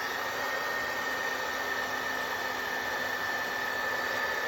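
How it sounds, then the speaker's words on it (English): A heat gun blows hot air onto a freshly painted tin Christmas ornament, a steady close whooshing hiss with a faint whine that holds constant throughout, with no talking. "Let me pop it with the heat gun a little bit."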